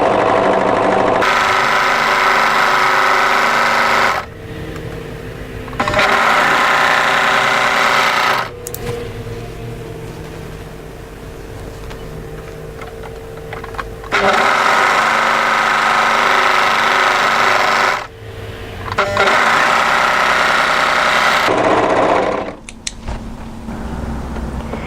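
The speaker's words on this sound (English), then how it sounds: "So I'm coming to my overlocker now, and I'm just going to complete the overlocking of the edge." An overlocker stitching along the edge of cardigan fabric, running in several loud bursts of rapid mechanical whirring separated by short quiet pauses.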